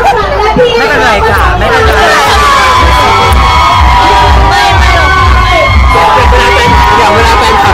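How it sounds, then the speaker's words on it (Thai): A loud crowd of fans screams and cheers to welcome a celebrity, dense shrieks and whoops filling every moment, with voices of people speaking mixed into the din. "เลยเสียงกรี๊ดดังๆต้อนรับพี่ลงอภิษฐ์"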